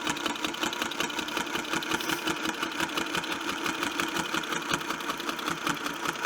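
A Spin-E-Fex 7 longarm quilting machine stitches at a steady pace, its needle producing a fast, even mechanical chatter that runs continuously and fairly close without pause or voices.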